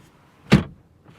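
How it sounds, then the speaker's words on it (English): A single solid thud as the door of a 2025 BMW M235 Gran Coupe closes, heard from inside the car, brief and close, with no talk. "Let's close the door."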